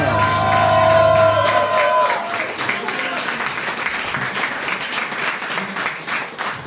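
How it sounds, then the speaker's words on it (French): A thunderous round of applause from a café audience for the Showdance group, with cheers and whoops over dense, steady clapping that trails in from the end of music and holds strong throughout. "je voudrais qu'on fasse encore un tonnerre d'applaudissements pour le groupe Showdance"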